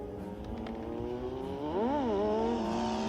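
Traxxas Bandit RC car on a 2S LiPo pack at full throttle during a speed run, its electric motor whining in a steady high pitch that swoops up and back down near the end, loud and alone.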